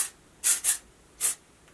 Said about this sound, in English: sometimes I'll take a little bit of the wavy texturizing spray and just kind of lift my hair up